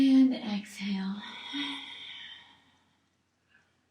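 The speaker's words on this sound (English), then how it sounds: "Exhale here. Inhale. And exhale." A soft, sigh-like exhale during a morning yoga session, a single long breath out that fades to quiet after about two and a half seconds.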